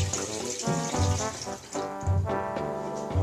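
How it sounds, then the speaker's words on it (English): Water runs from a kitchen faucet nearby in short bursts, splashing and gurgling into a measuring cup with a shifting, tonal ring. "1 cup of water from the faucet"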